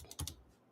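A few quick keystrokes on a computer keyboard, soft and close, three light clicks fading into quiet.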